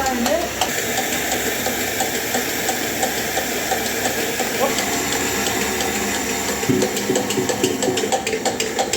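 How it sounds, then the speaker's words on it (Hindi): Wheat being ground into flour by two women at home, a steady loud mechanical whirring and hissing drone running without pause, with a voice talking over it. "मम्मी और भाभी दोनों गेहूँ पीस रही है।"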